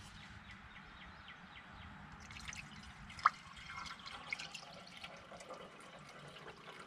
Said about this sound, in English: let's put a little bit of fresh antifreeze in there